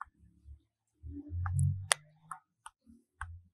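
Typing on a phone keyboard produces a handful of quiet, irregular taps and clicks, a few close together, set against near silence.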